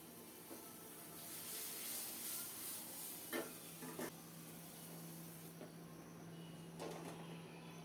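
Quiet, steady sizzle of taro stolons frying in a pan, with a few soft stirring scrapes and brief clinks of a spatula against the pan.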